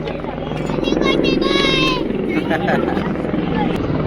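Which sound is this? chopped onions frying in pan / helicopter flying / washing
helicopter flying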